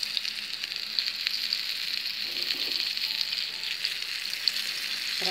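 Fish fries in a pan with a steady, dense sizzle close to the microphone, crackling continuously with small pops and no talking.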